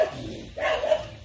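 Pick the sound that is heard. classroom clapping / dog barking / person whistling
dog barking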